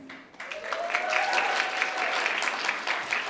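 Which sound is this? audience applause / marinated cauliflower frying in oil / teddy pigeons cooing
audience applause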